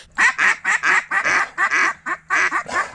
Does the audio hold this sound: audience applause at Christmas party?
no